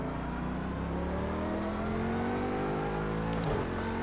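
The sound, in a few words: race car engine revving in Project CARS 2 video game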